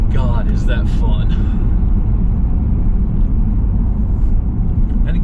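A 2006 Jeep Commander with a new Hemi V8 pulling hard, a loud deep engine rumble heard from inside the cabin, steady and close, with a voice briefly over it at the start.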